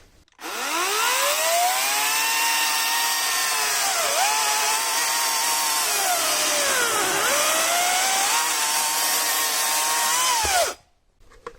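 Parkside PKSA 40-Li A1 cordless 40V brushless chainsaw cutting through a partly seasoned log, a loud continuous whine that starts abruptly, dips in pitch as the motor bogs under load at moments, then cuts off sharply after about ten seconds.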